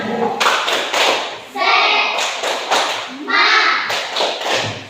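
Children in a classroom perform the tepuk semangat clapping chant, bursts of rhythmic group clapping mixed with chanted voices in loud repeated phrases, close and lively.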